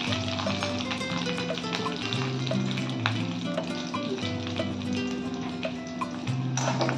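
Fenugreek seeds and dried chilli fry in a hot pan for Bengali sour mango dal, a steady close sizzle with light stirring clicks throughout, no voices.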